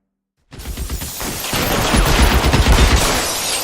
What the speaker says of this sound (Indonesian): Kita lihat dulu arah tembakan mana.